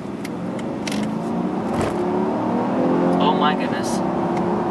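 A 2013 Mercedes S550 with Active Body Control accelerating hard in sport mode under turbo boost, a steady loud engine drone heard from inside the cabin while a person exclaims over it.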